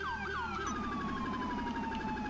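A wailing police siren in a video game sweeps up and down continuously, loud and close, with a steady engine-like rumble underneath and no talking.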